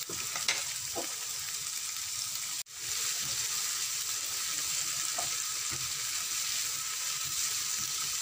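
Capsicum, broccoli and cauliflower fry in a pan with a steady close sizzle. There is a brief gap midway, then the hiss resumes with faint stirring clatter underneath.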